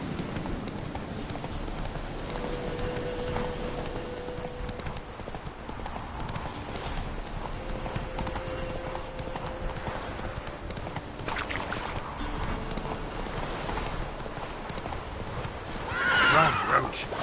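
A horse gallops in The Witcher 3 with steady rhythmic hoofbeats throughout, then neighs loudly near the end, with game ambience and a voice speaking over it.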